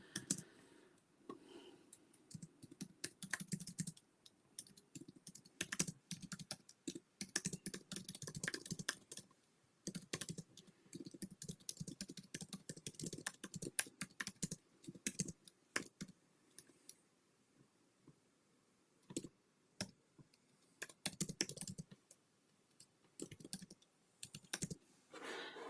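Steady typing on a computer keyboard while writing alt text, soft close key clicks in irregular bursts and pauses, quiet and without talk.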